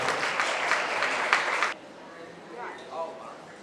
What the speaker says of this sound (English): So let's give these guys another big round of applause.